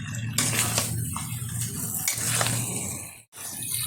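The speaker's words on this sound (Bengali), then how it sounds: "এখন দিয়ে দিচ্ছি এর মধ্যে আলুটা দিয়ে কিন্তু খুব ভালোভাবে কষিয়ে নেব।" A spoon scrapes and clatters against a pan while chicken curry with potatoes is stirred and fried, close and continuous, with a few metallic knocks and no talking.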